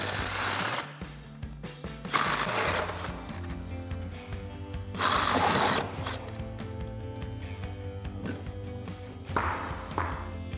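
A lug socket wrench works the spare tire loose on a 2021 or later Ford Bronco, giving short bursts of ratcheting and metallic clicking over a constant low hum, close by.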